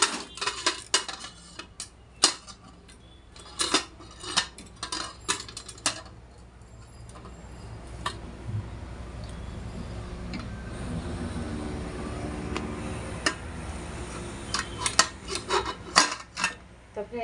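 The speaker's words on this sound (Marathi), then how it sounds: "आता मी लावते कुकरचं हे झाकण" A pressure cooker lid is fitted onto a pot of masoor dal in a home kitchen, with sharp metallic clinks and clatters in short bursts and a quieter rustling stretch in the middle.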